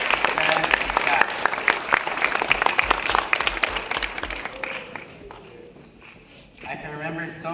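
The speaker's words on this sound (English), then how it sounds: "Please give a big round of applause for our wonderful teachers, parents, and staff." A crowd at a June graduation ceremony applauds teachers, parents and staff, a dense, sustained clapping from a large audience that fades out before a voice resumes speaking over a microphone.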